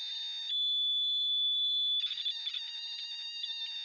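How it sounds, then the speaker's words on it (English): A multimeter gives off a steady, high-pitched electronic tone that shifts pitch midway, turning warbly and fluttering once the negative probe is inserted. The tone is close and piercing, with no talking. "you can see the another frequency of sound when you put the negative one into it."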